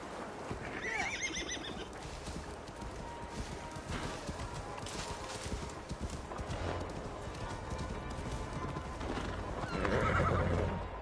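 In Assassin's Creed Valhalla, a horse gallops with steady drumming hoofbeats and lets out a loud neigh near the start and again toward the end, layered under dense game ambience.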